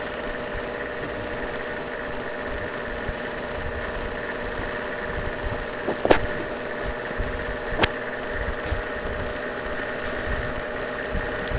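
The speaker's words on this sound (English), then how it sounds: "I love riding the tank." A tank engine rumbles in the video game Call of Duty: World at War, a steady mid-pitched idling drone with a couple of sharp clanks cutting through.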